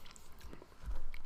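Biting and chewing kimchi nachos up close, a couple of soft crunchy bites with chewing in between, moderately quiet, no talking.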